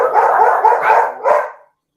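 Several pet dogs bark and howl at home during an NHL playoff watch party, in a loud, close, continuous burst of whining yelps that cuts off into silence.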